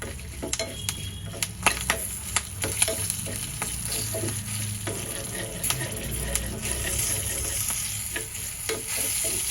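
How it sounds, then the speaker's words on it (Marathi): Two red chillies sizzle in hot tempering oil for curd rice after the gas is switched off, a steady close frying hiss dotted with sharp crackling pops and occasional stirring scrapes. "2 लाल मिरच्या घालूया."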